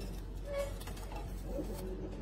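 Pigeons at an Egyptian bird market coo softly and steadily for a couple of seconds, a low murmuring presence at moderate distance with no talk.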